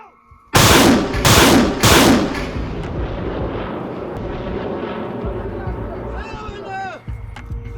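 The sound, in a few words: multiple rocket launcher firing a ranging rocket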